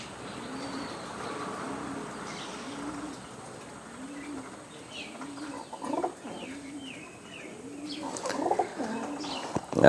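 Pigeons on a Bangladeshi pigeon farm coo in a repeated low rhythmic pattern close by, with scattered chirps, rustling and a few knocks building toward the end.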